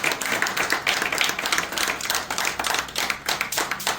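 A crowd at a human rights association gathering in Haryana claps rhythmically, a dense, fairly loud pulse of hands beating in rough unison throughout.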